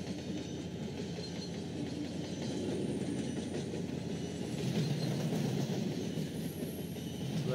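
A freight train reversing with a boxcar in the Trainz 12 railway simulator game rumbles steadily, with continuous rolling wheel noise and faint rhythmic clatter, no voices over it.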